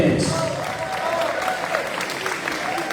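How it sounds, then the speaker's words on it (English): Crowd applause at a high school athletic banquet honoring the football defense, a dense, steady wash of clapping from a large audience that carries on evenly throughout. "give them a real big round of applause for the defense"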